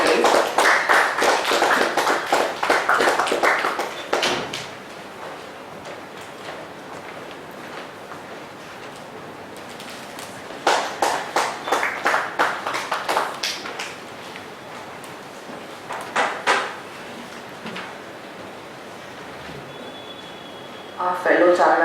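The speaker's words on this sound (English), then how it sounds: "So let's welcome him with a great applause" Audience applause welcoming a speaker on stage at a professional talk on FATCA and CRS regulations, two bursts of steady clapping from a seated crowd, the first around four seconds long and the second shorter, with brief taps between.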